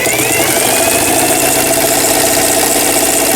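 A restored old German machine runs on its power motor, giving a loud, steady mechanical drone with a continuous rumbling, vibrating hum throughout.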